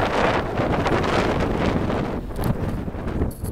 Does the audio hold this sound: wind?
yes